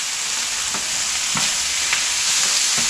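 Ground moose meat frying in a pan while being stirred, a constant close sizzle with a few soft scraping strokes of the spoon at intervals.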